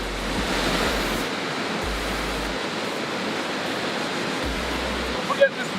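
Water rushes and churns steadily around an inflatable raft on a river at the Falls of Falloch in Scotland, a loud, continuous roar with wind buffeting the microphone and a brief knock near the end.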